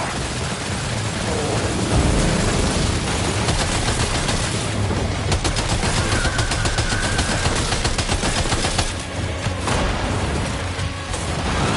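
Sustained gunfire in Death Stranding 2, a dense, loud barrage of rapid shots running steadily through the whole stretch with explosive bursts mixed in.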